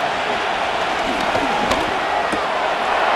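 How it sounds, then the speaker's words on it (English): Stadium crowd roar in the Madden NFL 25 football video game, Tennessee Titans against Las Vegas Raiders on a third down: a steady, loud wash of crowd noise with a few brief thumps and cheers rising out of it. "The crowd making their presence felt"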